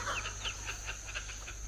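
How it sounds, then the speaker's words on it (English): Chickens clucking in short repeated bursts across a garden with watermelons growing, over a steady background hum and high constant tone, no voices. "Chickens."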